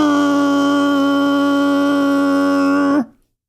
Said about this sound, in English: If you're listening to drone footage, it sounds like this.